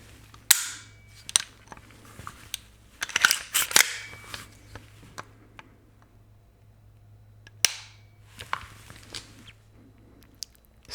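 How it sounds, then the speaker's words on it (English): Crisp, sharp clicks from an AR15 rifle trigger resetting, several distinct snaps in bursts with quiet gaps between them, close up and with no speech. "Now let's listen to the trigger reset."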